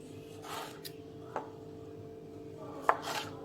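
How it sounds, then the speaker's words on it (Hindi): A knife chops tomatoes into cubes on a cutting board, a few sparse, sharp cuts spaced apart, close and fairly quiet, while making homemade tomato ketchup. "तो मैं ये सारे काटता हूँ, आप ऐसे क्यूब्स में काट लें इसको"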